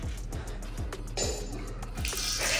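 Water runs from a foot-pedal operated hand-washing tap in a washroom on an Abu Dhabi to Dubai road trip, spilling in a steady close stream with soft splashes and a few brief knocks.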